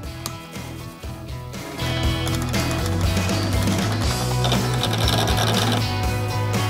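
Wood lathe spinning a long epoxy lightsaber blank while carbide tools scrape against it, a steady humming drone with a rough rasping texture that grows louder and fuller after the first couple of seconds.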